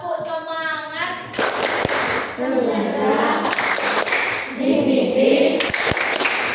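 Schoolchildren in an Indonesian classroom perform a rhythmic spirit clap led by their teacher, with patterned hand claps mixed into loud group chanting and children's voices throughout.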